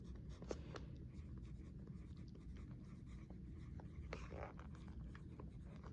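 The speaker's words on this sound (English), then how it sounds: "I'm going to write down that physical changes can be reversed." Pen or pencil writing notes by hand on paper, a quiet continuous scratching with a few short sharper strokes over a soft room hum, close by and faint, no talking.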